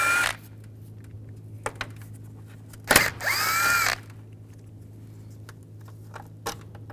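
A power tool driving a 10mm socket whirs in two short bursts, one brief and one lasting about a second, while removing radiator fan bolts on a 2013-17 Nissan Sentra, with faint clicks and handling noises around it.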